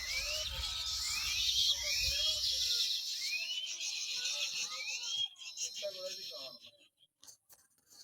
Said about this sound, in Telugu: పిచ్చుకల సౌండ్.